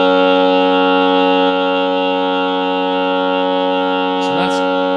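Singers hold a bright, steady vocal harmony with every part, the third included, sung on an open "ah," rich and sustained, with a brief faint voice near the end.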